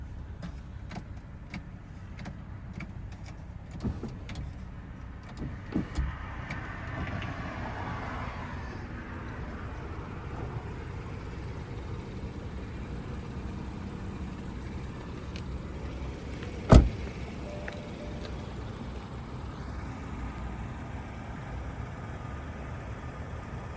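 A 2015 BMW X5 xDrive 35i is driving, heard as a low, smooth engine and road hum inside the cabin, with a few clicks and one sharp knock.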